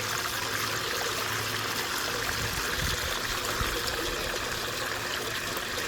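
Pay dirt is washed out while prospecting for gold, with water pouring and trickling in a steady, fairly loud stream that holds without a break.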